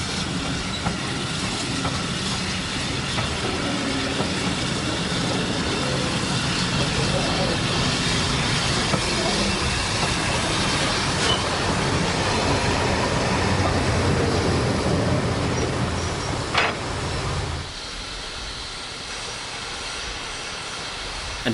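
An Ivatt steam locomotive shunting coaches at the Severn Valley Railway during a spring steam gala: continuous dense rumbling and hissing close by, dropping abruptly to a quieter level near the end.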